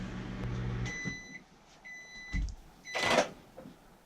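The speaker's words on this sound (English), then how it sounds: "Go, microwave, go!" A microwave oven melting butter hums steadily with a few short electronic beeps, clunks and rattles, close and moderately loud, with no talk over it.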